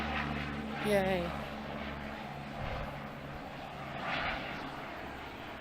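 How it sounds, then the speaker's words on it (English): An airplane flying in over a campus, a moderately faint engine drone rising and fading in the distance, with a brief voice heard. "Plane flying in."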